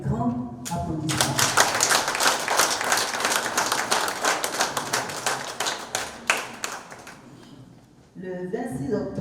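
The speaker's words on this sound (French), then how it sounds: "Cela mérite un grand applaudissement." Applause breaks out at a municipal council meeting in Abidjan, a dense, steady clatter of many hands lasting several seconds, with voices audible before and after.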